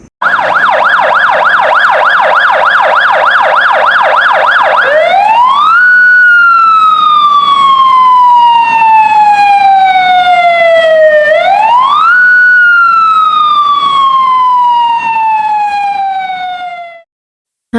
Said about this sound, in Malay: Itu adalah bunyi bomba. Siren bomba.